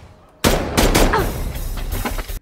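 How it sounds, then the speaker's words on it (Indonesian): Gunfire bursts in rapid succession, loud and close, several sharp cracks packed into about two seconds. "Miller dan Alex sontak kaget mendengar suara tembakan tersebut"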